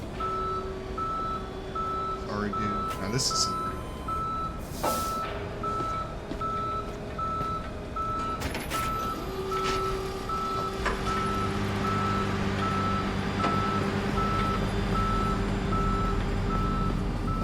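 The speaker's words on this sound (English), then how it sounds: "Tow truck will be at your location shortly." A tow truck in Police Simulator: Patrol Officers reverses with a steady repeating beep, continuous over an idling engine hum while someone talks briefly.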